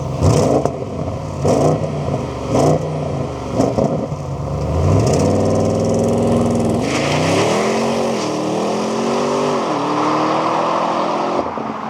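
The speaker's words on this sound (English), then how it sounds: "The C8 Audi RS6 Performance is powered by the so famous twin-turbo V8 engine" 2026 Audi RS6 C8 Performance with the twin-turbo V8 accelerating hard. Several short throttle blips and gear changes lead into long rising pulls, loud and close, with rushing road and wind noise behind.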